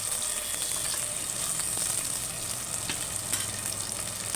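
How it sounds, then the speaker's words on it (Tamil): Tomatoes sauté in a hot pan for a greens kadaiyal, giving off a steady close sizzle with occasional sharper crackles and stirring scrapes, with no voices over it. "தக்காளி பழத்தை சேர்த்து நல்லா வதக்கி விட்ருங்க."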